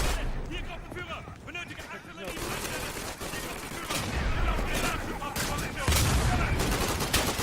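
Sustained machine gun fire rattles continuously in a Day of Infamy battle, many weapons firing at once with no break, loud and dense throughout.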